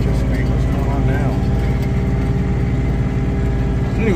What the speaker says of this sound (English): this tractor's really got a lot of good power